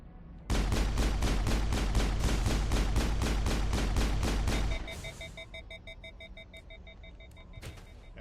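Rapid, steady automatic gunfire from a heavily armed turret alongside pistol shots in the sci-fi shooter Mass Effect 1, loud and continuous for about four seconds, then cutting off to quieter beeping electronic tones and a couple of scattered shots.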